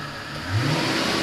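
Mercedes-Benz S600 engine that runs poorly, revving up sharply partway through in a brief, close, rough burst of engine noise.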